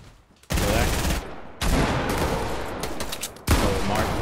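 Loud, close gunfire in a multiplayer shooter video game, three sharp onsets each followed by sustained booming rumble, with no talk over it.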